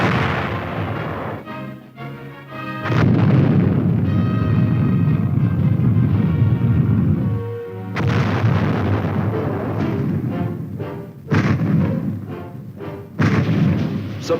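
Sustained booming artillery fire and explosions from a 1950s military film of airborne infantry, loud and dense for the whole stretch, with rumbling blasts layered over each other and brief sharper bursts.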